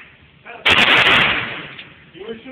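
A rapid burst of gunshots erupts at close range, loud for about half a second, then decays into a ringing tail, with people talking before and after.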